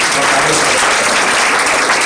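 Audience at a live talk in Chicago clapping steadily, a dense continuous wash of many hands, loud and unbroken throughout.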